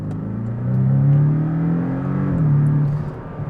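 Porsche 718 Boxster S engine accelerating hard at high revs, a loud, close, steady rising drone that holds for several seconds and briefly dips as if shifting gear, with no talking.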